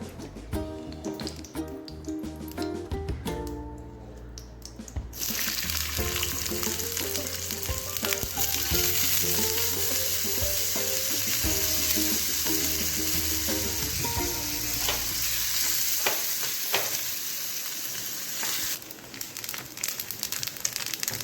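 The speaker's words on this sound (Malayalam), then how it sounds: "ഒരൽപ്പം നെയ്യ് ഒഴിച്ച് നമുക്ക് കുറച്ച് തേങ്ങാക്കൊത്ത് വറുത്ത് കോരിയിടാം." Coconut pieces frying in ghee give a steady, dense sizzle, at first mixed with a clearer patch of sound, then a continuous crackling fry close by, with no talk over it.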